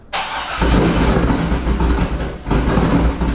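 A C5 Corvette with a newly installed cam cranks briefly, then fires up into a loud, choppy idle close by, with a burst of revving near the end.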